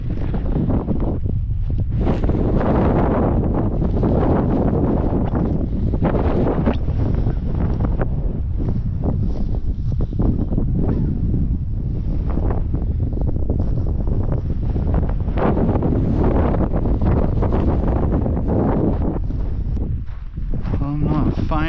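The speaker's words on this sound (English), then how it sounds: "It is so windy out here." Strong wind roars constantly across a microphone out in Utah's West Desert, a loud rumbling buffeting that swells and dips without a break.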